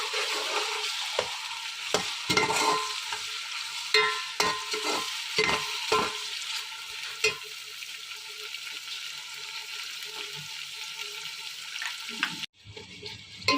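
Tomatoes and chilies frying in a pan while being stirred, with a soft continuous sizzle broken by repeated scraping knocks of a spoon against the pan, then a brief abrupt drop near the end, no talking.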